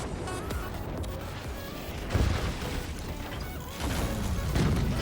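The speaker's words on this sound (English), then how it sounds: "Is that 2 cannons? That felt like 2 cannons." Cannon fire in the Forts strategy game, with two heavy booms hitting a few seconds apart over a steady background rumble, and no talking.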